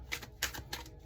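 Tarot cards shuffled by hand, a few quick, close papery riffles and taps in uneven bursts over about a second, with no voices.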